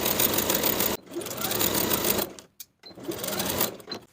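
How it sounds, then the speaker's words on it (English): A sewing machine stitches a denim skirt seam with a 3/8 inch seam allowance. It runs steadily in close, loud bursts, with brief pauses between them and a short gap near the end. "Sew from the notch to the dot with a 3/8 inch seam allowance,"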